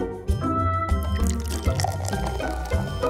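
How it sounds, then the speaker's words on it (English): Soda pours from a can into a cup, giving a continuous gurgling splash with small bubbly drips and glugs throughout, close and fairly loud. "Time to start pouring the soda into the cup."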